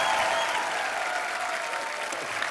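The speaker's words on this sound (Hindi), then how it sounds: "आप सबकी जोरदार तालियों के बीच" Studio audience on a TV comedy show breaks into loud, sustained applause welcoming a guest, a dense steady wash of clapping from start to finish with faint cheers mixed in.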